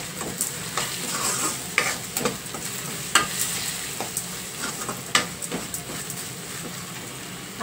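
Curry leaves sizzle in hot oil in a frying pan while being stirred, for a prawn and egg curry; a steady close crackle runs throughout, punctuated by sharp spoon scrapes and clicks at irregular intervals, with no talking.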